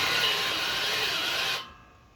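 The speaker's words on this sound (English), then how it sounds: "when it squeaks, it means the drill bit's fucking shit" A drill with a worn-out bit squeals and rasps against metal in a continuous grinding screech while welding up a grab, then cuts off abruptly, leaving faint room noise.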